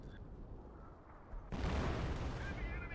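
On-map artillery fire in a real-time strategy war game, a quiet stretch giving way to a sudden heavy boom with rumbling, crackling blast noise that carries on beneath commentary.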